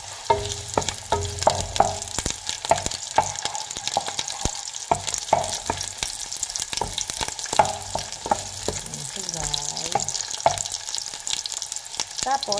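Ginger and onion fry in a pan with a loud, steady sizzle, a dense crackle punctuated by the clatter of stirring and spatula scrapes.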